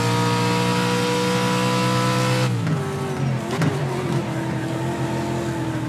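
Ford Fiesta Pro 2 Lite race car on the Daytona dirt track in iRacing, its engine droning loudly at steady revs before the throttle is blipped and modulated under braking, with rough, shifting engine tones and no voices.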